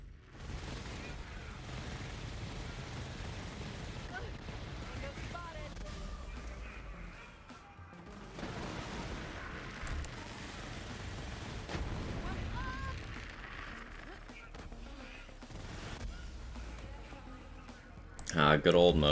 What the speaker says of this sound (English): Who wanted to hear rad explosions?